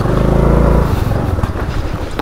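A motorcycle engine revs hard, starting with a loud low steady drone that breaks into rough, uneven throttle blips, close and loud.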